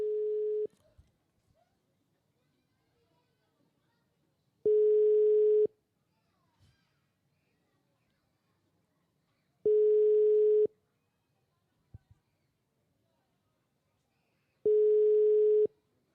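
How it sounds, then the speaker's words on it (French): Telephone call placed during a radio show, with a steady single-tone beep repeating about every five seconds at an even rhythm, separated by near silence and a few faint clicks. "on va tenter d'appeler un deuxième numéro pour ce jeu. C'est parti, on y va. Hop, composition."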